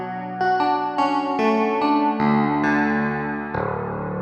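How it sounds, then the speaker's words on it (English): A sustained synth pad plays a sequence of held chords, thick and shimmering with a warm, wavering chorus effect, no voices. "There is a chorus sound you can put on as well."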